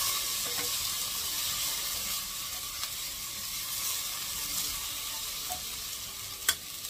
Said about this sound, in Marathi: आणि लगेच ही मटकी आता मी टाकणार आहे.